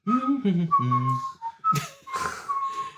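A person whistles a short melodic tune, clear and close, with a few pitched notes and breaths between phrases.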